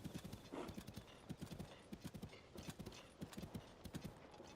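Horse hooves clip-clopping in a Zelda game on the Switch 2, a steady galloping rhythm of soft repeated hoofbeats, faint and continuous with no talk.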